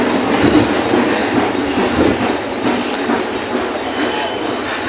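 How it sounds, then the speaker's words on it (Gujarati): A suburban train bound for Borivali rolls past nearby, a loud, steady rumble with rhythmic clickety-clack from the wheels across the whole stretch. "આ ટ્રેન જાય છે બોરીવલી અટાણમાં."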